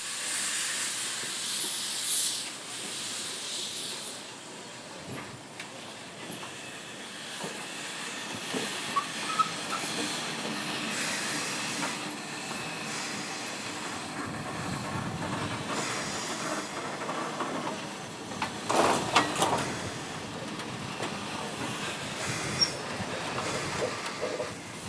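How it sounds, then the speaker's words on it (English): A steam locomotive backing slowly over an ash pit in a railway yard, with a steady hiss of steam, low rumbling and occasional metallic clanks and bursts that rise and fall over the whole stretch, no talk. "Then the locomotive is backed over the ash pit."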